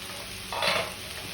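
Vegetables and tomatoes for a mixed-vegetable kara kuzhambu gravy frying in a pan, stirred once in a brief, close scraping burst over a steady low sizzle.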